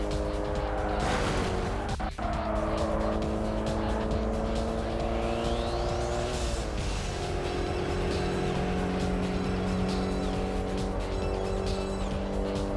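Racing cars in the PSP video game Street Supremacy roar continuously with steady engine drones that shift pitch as they accelerate, a brief tire squeal near the start, all fairly close and constant.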